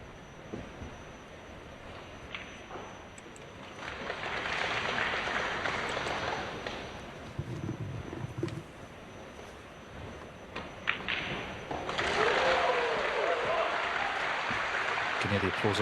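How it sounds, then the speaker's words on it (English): Applause rises from a neighbouring table in a snooker arena at the 2025 Shanghai Masters, clapping swells in a few waves amid the room's ambience while a commentator speaks. "Can hear the applause on the other table"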